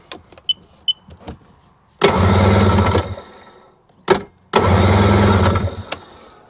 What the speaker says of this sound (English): Let me just crank it over to get rid of any